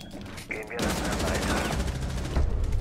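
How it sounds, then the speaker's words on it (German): Rapid gunfire in the tactical shooter Rainbow Six Siege, a dense burst of automatic shots lasting a couple of seconds, loud and continuous after a brief lead-in. "Das waren viel zu viele Schüsse."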